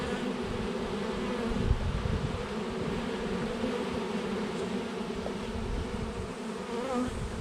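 Dense swarm of honeybees humming continuously during a swarm capture, a loud close drone with no pauses and no talk.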